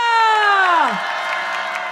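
A rally crowd at a candlelight protest bursts into cheering and applause, opening with one high shouted whoop that slides downward before settling into a steady, moderate wash of clapping and voices.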